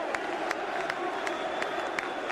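A bloodthirsty ECW wrestling crowd roars in steady, dense cheering, with sharper bursts of shouts and claps popping out at intervals over the continuous wash of noise.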